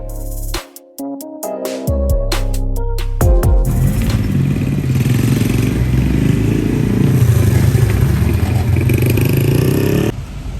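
Street traffic in Fira, Santorini: after a few sharp knocks, a continuous loud engine rumble and road noise from passing vehicles fills the scene.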